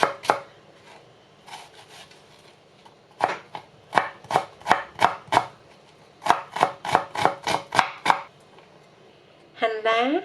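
A kitchen knife chops and minces purple shallots on a cutting board in quick, crisp bursts of taps. The taps come in rapid runs with short pauses between them, near and clear, and someone talks briefly at the end.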